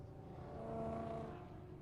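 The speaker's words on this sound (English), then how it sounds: "that sonorous Coyote engine" Ford Mustang with a Coyote V8 at a Sebring race, heard faint and distant as a steady engine drone with a slight swell in the middle.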